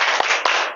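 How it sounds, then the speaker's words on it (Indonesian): A classroom of students claps out a rhythmic spirit chant, with two sharp, loud group claps standing out over a dense, steady wash of noise. "Tepuk semangat."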